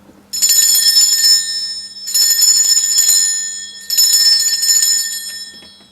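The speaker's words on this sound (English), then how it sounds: "I am going to be ringing this bell, but it can get quite loud." A handheld bell rung loudly in three long, bright, ringing bursts of rapid clanging, each lasting over a second with brief pauses between, close and alone.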